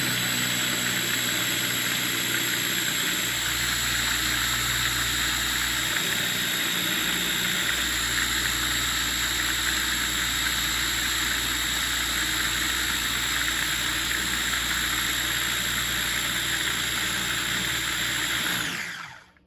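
A two-speed food processor set to puree runs steadily while blending a homemade salad dressing, a loud, continuous motor whir with no talk that holds for nearly twenty seconds before cutting off abruptly at the end.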